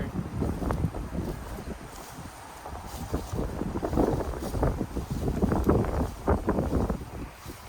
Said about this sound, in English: so pretty windy day